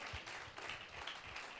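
A church congregation applauds together, a steady wash of many hands clapping at close range, with no talking over it.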